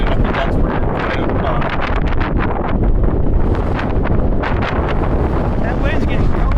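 Strong, cold wind roaring into the microphone outdoors during a storm chase in Arkansas, a loud constant gusty rush with rustling, and a voice faintly mixed in.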